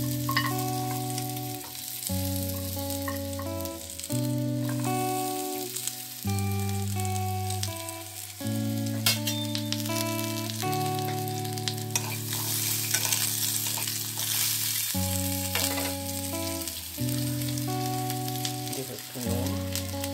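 Tamarind chutney bubbles and sizzles steadily in a pan throughout, a constant close hiss partly masked by louder background music with sustained tones.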